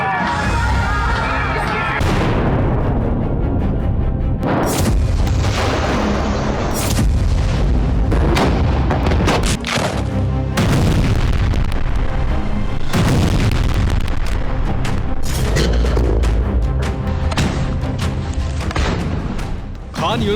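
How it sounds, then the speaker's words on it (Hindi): Explosions and artillery fire in war footage from Khan Younis: heavy, loud booms and blasts crowd together across a dense, continuous roar, with repeated sharp impacts. "खान यूनिस से लेकर वेस्ट बैंक तक ताबड़तोड़ धमाकों का दौर जारी है"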